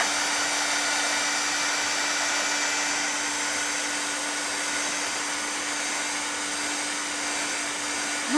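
A hair dryer runs steadily and loudly throughout, drying thick white craft pieces for a Santa gnome, with a constant whooshing airflow and a steady motor hum and no talking.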